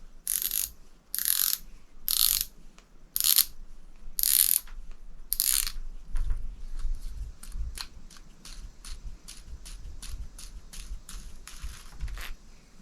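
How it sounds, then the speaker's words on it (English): Star drag being unscrewed on an Abu Garcia Revo X baitcasting fishing reel, with several loud bursts of ratcheting clicks followed by a long run of quieter, faster clicks and light handling noise, close up and without talking. "removing the star drag is as simple as unscrewing it"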